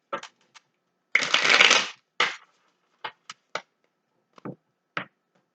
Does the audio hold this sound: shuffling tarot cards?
yes